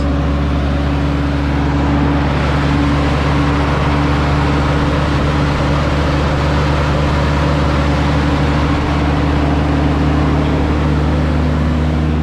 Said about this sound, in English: found that the clutch fan makes a lot of noise